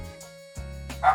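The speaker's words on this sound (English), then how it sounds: "Sorry about my dogs." Pet dogs barking and yipping while playing indoors, a few short separate yaps with gaps between them, fairly close, one louder yip near the end over a low steady hum.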